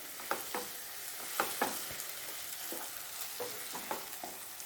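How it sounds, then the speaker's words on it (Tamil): Tomatoes frying with ginger-garlic paste in a pan for hotel-style chicken gravy, stirred with repeated scraping strokes in an irregular rhythm over a soft, steady sizzle, close and fairly quiet. "இப்போது இந்த சமயத்தில் தக்காளி, இதை நல்லா கிளறி விட்டு"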